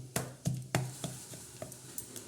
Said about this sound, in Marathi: तो गूळ थोडा बारीक करायचा